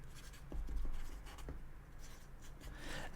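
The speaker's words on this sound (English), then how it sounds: "I will write down right now to add it in." A pen scratches across paper up close in a quiet room, soft irregular strokes and light scraping at a gentle level.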